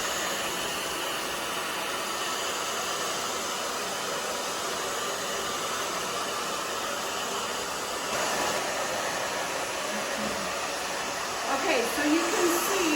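A hair dryer blows a steady, close rushing roar while drying a short pixie haircut, continuous throughout with slight shifts as it moves, and a faint voice near the end.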